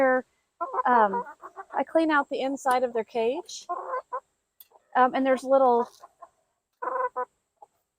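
Backyard chickens cluck and croon in a city chicken run, several bursts of nearby clucking with short gaps, while a person talks at times among them.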